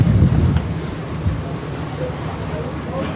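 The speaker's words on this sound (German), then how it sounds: "Ja, war ein bisschen windig da." Wind gusts across the deck of the steamship SCHAARHÖRN, roaring and buffeting the microphone loudly at first and then settling into a steady rushing noise.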